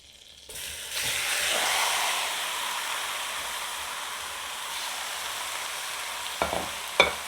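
Meat for stewed chicken sizzles loudly in a hot pan, a steady crackling hiss with a few sharp clinks of a utensil near the end.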